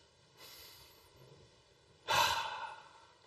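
A single deep breath in a calm, quiet room: a faint inhale followed by a louder, breathy exhale, close and alone.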